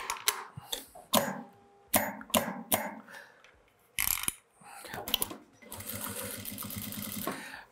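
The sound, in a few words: sewing machine stitching a patchwork block border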